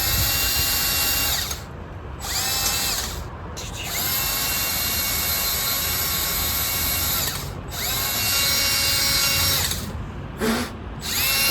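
A power drill whines steadily at high speed, stopping briefly a few times before spinning up again, close and loud, with no talking.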